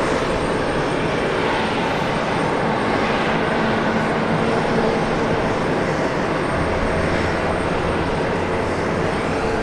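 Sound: Boeing 767 jet airliner arriving at airport

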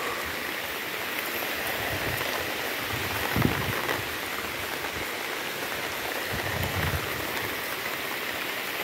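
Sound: heavy rain

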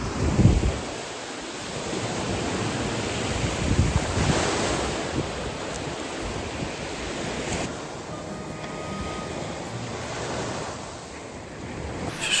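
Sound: sea waves on the shore

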